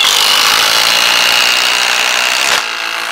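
Milwaukee M18 Gen 4 and Surge impact drivers sink 6-inch structural screws with a loud, continuous, close-up whirring roar that cuts off sharply near the end.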